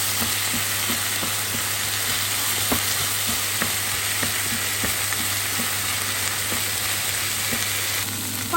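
Washed rice fries in a pot with a continuous close sizzle, broken by scattered sharp crackles and pops while it is stirred.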